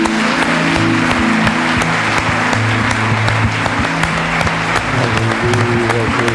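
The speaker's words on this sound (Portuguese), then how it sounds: "recebe a alegria do nosso aplauso" A church congregation bursts into sustained applause, a thick steady wash of many hands clapping, with voices and sung or held tones running beneath it throughout.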